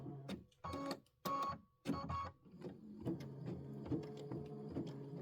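An embroidery machine works a satin stitch on vinyl, with several loud bursts of stepping motor whir separated by short pauses, then a denser run of buzzing stitches.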